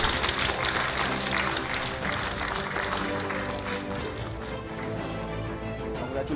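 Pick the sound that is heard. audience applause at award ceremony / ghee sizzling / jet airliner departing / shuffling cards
audience applause at award ceremony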